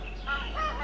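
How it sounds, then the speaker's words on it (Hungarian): A caged rooster at a fighting-cock area in a Bangkok slum gives a short, close, raspy call in two quick pulses. "Ott van például szembe egy kakas a rács alatt."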